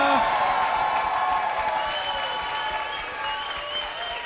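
An audience applauds at the awards for a bouldering finals competition, with a steady, dense clapping that holds from start to finish and a few whistles and cheers rising above it.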